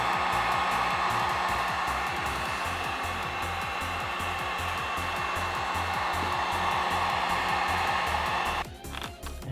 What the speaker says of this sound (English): Then you can take your heat gun again and heat it up one more time